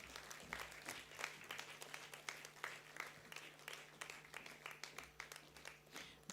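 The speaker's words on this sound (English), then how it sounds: "You can keep your applause going." Faint, continuous applause from an audience at a university convocation for first class honours graduates, many hands clapping steadily with slight swells.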